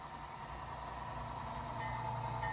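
A PIKO RC GE 25T model locomotive rolls onto the tracks with a steady motor whine and hum, a constant close drone that grows slightly louder.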